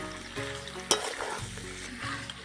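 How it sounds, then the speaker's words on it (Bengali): Fried ash gourd pieces are stirred into a chicken curry in a pan, giving a soft sizzle with scraping and clattering utensil strokes and one sharp clink, fairly quiet and close. "আমি চাল কুমড়োগুলো দিয়ে দিচ্ছি। দিয়ে ভালো করে একটু নাড়িয়ে নেব।"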